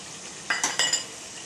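Garlic cloves frying in a pan for garlic pickle as turmeric, chili and salt go in, a steady close sizzle broken by four quick scraping stir strokes midway.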